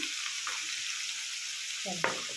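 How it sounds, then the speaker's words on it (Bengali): Onion and tomato frying in a pan give a steady close sizzle with a few brief stirring scrapes toward the end. "দেখো পেঁয়াজটা ভাজা দিয়ে দিয়েছি তার সাথে টমেটোটাও দিয়ে দিয়েছি"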